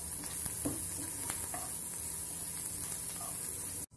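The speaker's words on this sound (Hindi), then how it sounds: "लहसुन को गोल्डन ब्राउन होने तक तलेंगे" Thinly sliced garlic frying in hot oil in a kitchen pan, a soft steady sizzle with occasional stirring scrapes, faint and continuous, ending in an abrupt cutoff.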